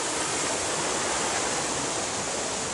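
A river in the well-shaded Monachil valley pours steadily along, a continuous broadband rush of water that stays loud and even from start to finish, with no voices over it.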